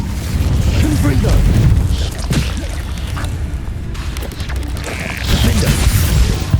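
An explosive Confringo spell is cast in the Hogwarts Legacy video game, producing loud booming blasts and crashing impacts with mechanical creaks. Dense game effects fill the whole stretch, with a brief lull before another burst swells up near the end.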